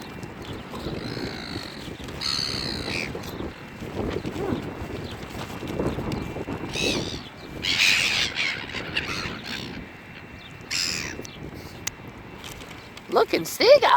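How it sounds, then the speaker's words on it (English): Seagulls squawk harshly in repeated bursts while fighting outdoors, some calls close and loud, others farther off, with wind buffeting the microphone and no talking. "that seagull's fighting like a man"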